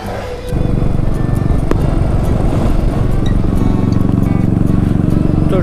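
A motorcycle engine starts up and then runs at a steady, loud drone as the bike pulls onto the road at about 11:15 on a long ride home, with no break in the engine noise.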